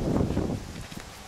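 Strong wind buffets the microphone beside a travel trailer, a loud gusty rush that peaks early and then eases into lighter rustling.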